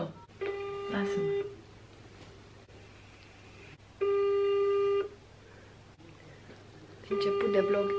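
A phone call's ringback tone in a room, three long electronic tone bursts with pauses between them, moderately loud and close, no voices over it.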